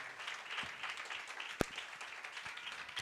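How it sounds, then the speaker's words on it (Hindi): A church congregation claps in a dense but fairly quiet patter during worship, with a single sharp, louder clap cutting through midway. "ताली बजा कर प्रभु का हम स्वागत करें।"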